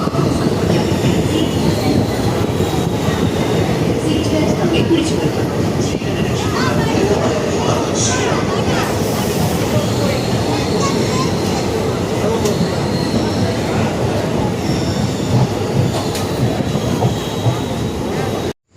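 The Madurai–Guruvayur Express rolls out of Piravom Road station in Kerala with a steady rumble and rhythmic clatter of wheels, occasional squeals, loud and sustained for the whole stretch.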